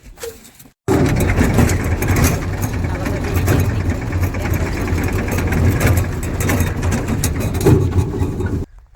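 A tractor engine running steadily with a loud, low continuous rumble after a brief quieter start, with voices talking over it.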